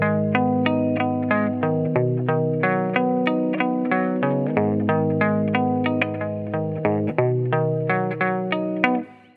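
Guitar strings damped by a large rubber band, played as a steady run of short, plucked notes with a boxy, muted attack and slight effect shimmer, alone and fairly clear.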